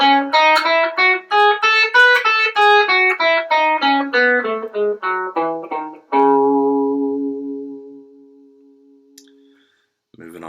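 Electric guitar running a minor scale in second position, a quick even run of many picked notes going up and back down, closing on a long sustained note that dies away, with a brief noise after it.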